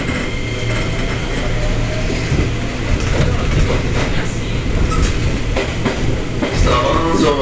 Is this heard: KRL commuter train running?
yes